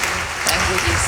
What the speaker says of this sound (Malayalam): കൈയടിച്ചൊന്ന് ഈശോയ്ക്ക് ആരാധന